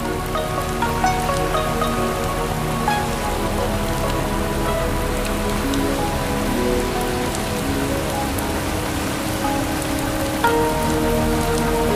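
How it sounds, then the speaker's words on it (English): Heavy tropical rain pours down steadily in the Mekong Delta, Vietnam, a dense, even patter of drops on surfaces, with no break in the downpour. "Undaunted by the sudden tropical downpour, the journey continues."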